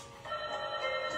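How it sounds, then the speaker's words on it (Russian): A telephone rings with an incoming call during a fitness stretching session, a steady tonal ring of about a second at moderate level with no talk over it. "Так, кто-то мне звонит."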